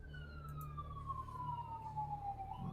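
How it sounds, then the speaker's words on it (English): An emergency vehicle siren on a Philadelphia street wails in one long, falling sweep. It sounds distant to mid-range, with a low traffic rumble underneath. "Pardon the sirens."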